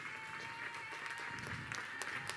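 Audience applause at the closing ceremony of a Relais pour la Vie charity event in Braine-l'Alleud, a faint, steady wash of many hands clapping at a distance.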